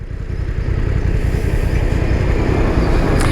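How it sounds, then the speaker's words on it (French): A large farm tractor passes along rural departmental road 77 at Lignereuil, producing a loud, steady, close engine rumble with mechanical clatter that holds for the whole stretch. "On va laisser passer le gros tracteur."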